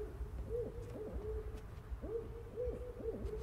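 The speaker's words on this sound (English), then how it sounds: "Shut up, owl." Owl hooting in The Quarry video game, a soft, fairly distant series of repeated wavering hoots in a quiet night setting, heard on its own.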